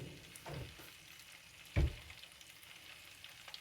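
Mutton nargisi koftas being lowered into hot oil, a faint steady frying hiss with one sharp close thump and splash as a kofta goes in, otherwise quiet.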